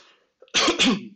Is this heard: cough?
yes